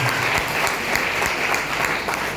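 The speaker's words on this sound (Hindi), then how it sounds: "ताली APLL के लिए।" Hearty applause from trainees at a computer-education training session, many hands clapping in a dense, steady burst that fills the room, with no voices over it.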